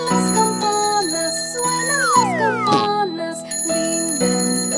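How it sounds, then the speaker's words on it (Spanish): Bright bell rings in a Spanish children's nursery rhyme song, repeated tuneful chimes over a bouncy instrumental backing with sliding synth notes, loud and upfront, no spoken voice. "suenan las campanas,"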